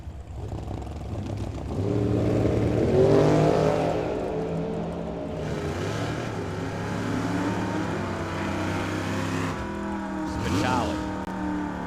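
A Camaro and a dragster in a drag race at Firebird Motorsports Park, engine roar swelling and rumbling under an announcer's voice over the track PA.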